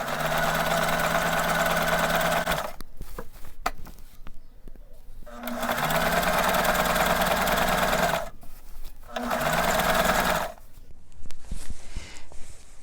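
Sewing machine zigzag stitching along the edge of a man's dress shirt, running in three steady bursts of rapid mechanical whirring separated by short pauses, close by.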